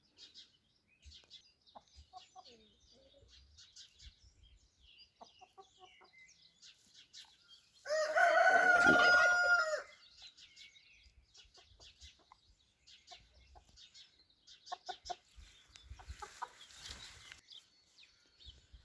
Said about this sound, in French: des poules qui font des œufs bleus